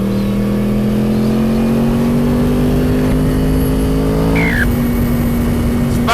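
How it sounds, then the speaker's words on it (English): An SR1 cross-plane crank motorcycle revs hard and rides, its engine note climbing steadily under load before a gear change, loud and close throughout with wind noise and no talking. "I've just borrowed this SR1 cross-plane crank bike to go for a spin on."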